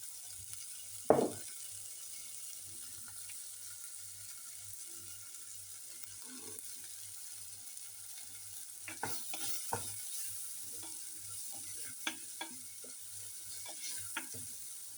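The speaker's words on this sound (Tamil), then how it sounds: "எண்ணெய் கத்திரிக்காய்க்கு உப்பு போடாமல் பொரிச்சு பாருங்க" Eggplant fries in oil with a soft, continuous sizzle, close and fairly quiet, marked by an early sharp knock and scattered spoon clicks and stirring scrapes, with no one talking.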